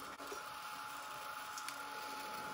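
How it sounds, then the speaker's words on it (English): A hair dryer blows a steady, even whir with a tonal whine, held close as it dries 100% rag watercolor paper, continuous with no speech. "I'm going to speed it up a little bit with my dryer."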